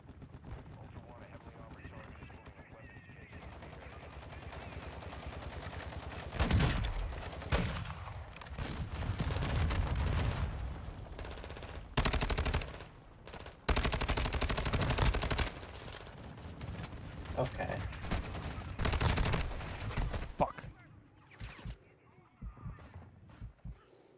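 Gunfire in a multiplayer shooter: loud bursts and scattered shots come and go over a steady noisy background, with rough stretches of heavier firing and quieter gaps between them.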